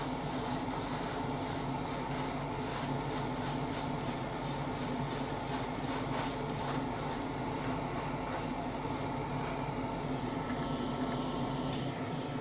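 Low-pressure spray paint hisses onto a frame part of a 1:12 Tamiya Yamaha YZF-R1M model motorcycle, a close, steady airy spray broken into rapid short pulses as passes are made, then easing off.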